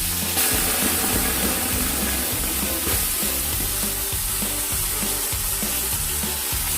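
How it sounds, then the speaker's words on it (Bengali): Boiled taro leaves go into a hot pan with cooked meat, giving a loud, steady sizzle broken by rhythmic stirring scrapes at regular intervals, heard close with no speech. "এবার এতে সিদ্ধ করা কচু শাকগুলো দিয়ে দেব"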